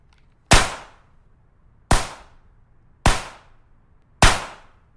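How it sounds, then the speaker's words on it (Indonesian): Four sharp gunshots ring out at shooting practice at steady intervals of about a second, each a loud crack followed by a short fading echo, with quiet between them. "diperlihatkan seorang gadis yang akan melakukan latihan menembak"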